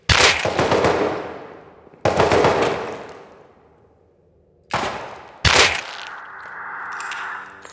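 Gunfire inside the military tunnel in the Rust video game: sharp bursts of automatic fire echo and ring off sheet metal, then a quieter gap before two more close bursts, the last trailing into a ringing metallic tail.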